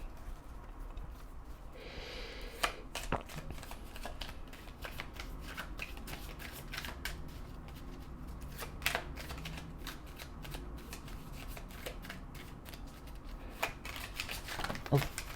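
Oracle cards are shuffled up close in quick bursts of papery flicks and riffles, with soft breathy sounds between them.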